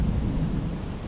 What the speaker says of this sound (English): The storm, the lightning is a lot.